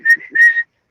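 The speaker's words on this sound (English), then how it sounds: "if I whistle like this" A person whistles two sustained, steady notes in quick succession, clear and close, with nothing else audible.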